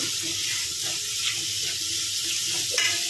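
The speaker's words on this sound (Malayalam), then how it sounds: "ഉള്ളിയൊക്കെ നന്നായിട്ടൊന്ന് വഴന്നു വരട്ടെ" Onions and green chillies frying in a pan for Kerala beef mappas: a steady, close sizzle with faint stirring scrapes and an occasional sharper crackle, and no voices.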